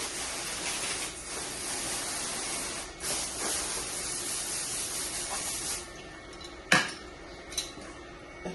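Steady hissing water spray rinses metal parts after a liner cut, running continuously with a few clinks and knocks of metal near the end.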